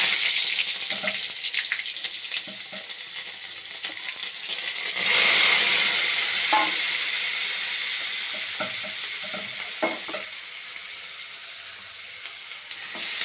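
Onion and garlic sizzle in a pan, a close, steady frying hiss broken by scraping stir strokes, and it swells briefly in the middle.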